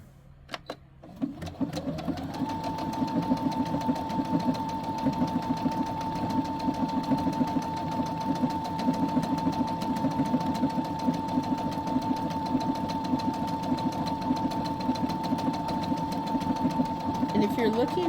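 A Brother SE700 sewing and embroidery machine starts up after a couple of clicks and stitches a pattern, its fast, even mechanical whirring and needle chatter holding steady and close throughout.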